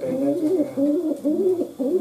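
A young pigeon in a loft coos close by in a repeated rolling rhythm, four or five throaty phrases in quick succession with short gaps, alone without talk.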